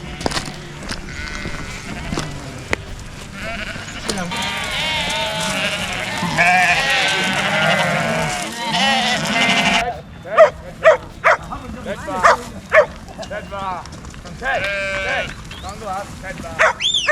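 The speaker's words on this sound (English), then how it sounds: "That was amazing with all those sheep coming through." A large flock of sheep passes along a stony mountain path on the way up Scafell Pike, many overlapping bleats close and loud, with a dog barking among them and people talking.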